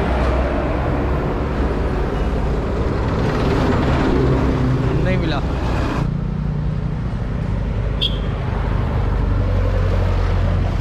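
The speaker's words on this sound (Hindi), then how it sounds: "गाड़ी आ रही है" A vehicle on the road from Muglin to Pokhara roars loudly up close, with heavy engine and tyre noise that swells and shifts as it goes by; someone speaks briefly over it.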